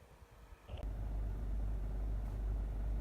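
A Honda CR-Z 1.5 IMA hybrid engine idles steadily with a low, even rumble heard from inside the car, starting after a brief quieter moment.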